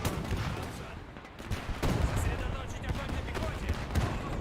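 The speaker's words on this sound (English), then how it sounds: "A lot of big fiery explosions." Battle in the World War II strategy game Men of War II: continuous rattling gunfire and rumbling explosions pile up in a dense, noisy barrage throughout.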